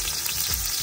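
Chopped onion dropped into hot oil sizzles loudly and steadily in a pan, a close, unbroken hiss of frying with no voices.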